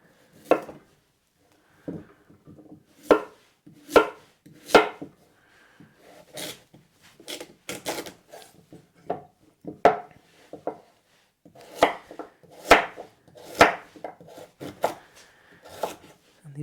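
Sweet potato with skin on and other vegetables being chopped on a board for roasting, a series of sharp, close knife strikes in irregular bursts with short pauses, fairly quiet and without talk.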